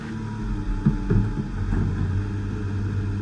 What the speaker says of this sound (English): engines fired up.